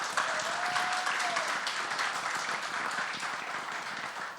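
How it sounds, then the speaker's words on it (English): A crowd applauds warmly at a film trailer launch event, a dense patter of many hands clapping that slowly tapers off, with a faint whistle near the start. "a big round of applause for him."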